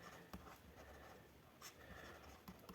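Writing on a board or paper during a lesson, with faint scratchy strokes and a few light taps spread over a few seconds, quiet and close, with no speech.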